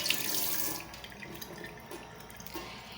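Tap water runs steadily into a sink while hands are washed, a close, continuous splashing rush that eases slightly after the first second.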